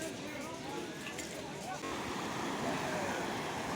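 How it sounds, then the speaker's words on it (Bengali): Steady rushing flow of a river current at Triveni Ghat among hills and forest, blended with cool wind, continuous broadband wash with faint voices in the first half. "ঠান্ডা একটা হাওয়া দিচ্ছে, জলের স্রোত"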